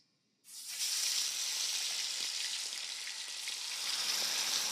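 Whole spices, black pepper, both kinds of cardamom and bay leaf hit hot oil, bursting into a loud, steady crackling sizzle that holds close and constant.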